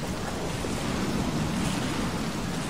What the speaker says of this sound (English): Oh dear, the waves are too big!